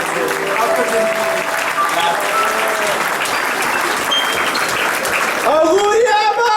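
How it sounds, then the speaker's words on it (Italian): Applause from an audience at a discotheque with a live dance orchestra fills the room, a steady roar of clapping mixed with music and voices that swells louder near the end. "Fate un grande applauso a tutta l'emozione e a tutte le figure."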